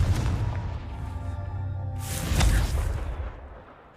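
A fiery Confringo spell explosion in Hogwarts Legacy, a muffled boom with a rumbling low rush, followed by a brief bright burst before it fades.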